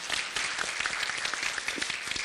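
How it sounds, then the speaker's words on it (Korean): A live audience at a Korean IT talk event applauds steadily, a dense wash of clapping held at an even level for a couple of seconds with no voices over it. "그 명승 대표님 한번 박수 부탁드리겠습니다."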